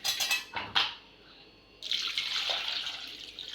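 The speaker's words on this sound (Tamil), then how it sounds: "இப்போ தண்ணி ஊற்றி ஊற வச்சுக்கலாம்" Water pours steadily into a bowl of tamarind to soak it, a soft continuous splashing rush, preceded by a few brief clinks of dishes.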